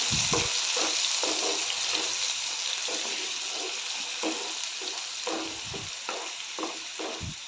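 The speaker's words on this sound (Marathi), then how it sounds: "ग्रेव्ही घालून चांगला परतून घेऊया" Spinach gravy is stirred and sautéed in a pan, giving a continuous soft sizzle broken by repeated scraping strokes of a spoon at an uneven rhythm, close and moderately quiet, with no talking.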